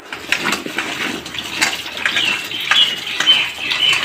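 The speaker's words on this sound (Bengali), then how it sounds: "তো পটলটাকে এরকম করে কেটে নিয়ে ধুয়ে নিতে হবে।" Cut pointed gourd being rinsed in water in a home kitchen, giving a close splashing, trickling wash with light clinks of pieces against a bowl, steady throughout with no talk.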